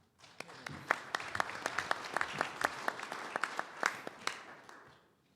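Applause from an audience at a pilot safety and aviation organization gathering, a steady crowd patter with sharp individual claps, rising quickly, holding for about four seconds and fading out, with no talk over it.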